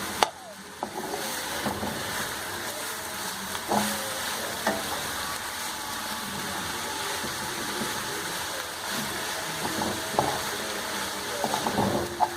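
Grated carrot frying in a pan for gajar halwa, a steady sizzle with occasional scraping stir strokes throughout, close and moderately loud, no talking.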